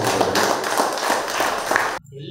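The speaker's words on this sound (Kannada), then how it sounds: "ಜೋರಾಗಿ ಒಂದು ಸರಿ ಚಪ್ಪಾಳೆ" An audience claps loudly and steadily at a meditation and knowledge gathering, the dense applause filling the space for about two seconds before cutting off abruptly.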